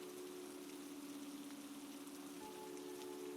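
Gentle rain patters steadily against windowpanes in a cozy indoor setting, a soft continuous wash with a faint low hum beneath, even and unbroken throughout.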